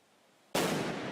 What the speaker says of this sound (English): police resorted to throwing a grenade towards the bunker